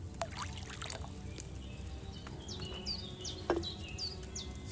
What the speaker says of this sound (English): you have to pour the right base into the cauldron